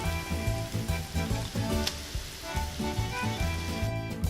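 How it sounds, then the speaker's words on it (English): Continuous crackling sizzle of onions frying in olive oil, steady and close, with a low rhythmic thumping underneath. "Start by frying the onions in enough olive oil."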